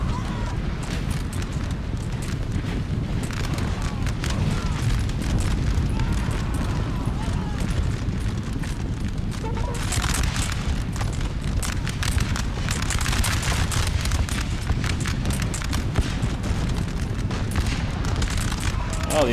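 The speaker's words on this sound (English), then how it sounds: "Oh, the artillery blew them to bits." Artillery shells bursting among massed troops in Napoleon: Total War, repeated dull booms and crackling musket fire rolling continuously over a loud battlefield din, with a voice speaking over it.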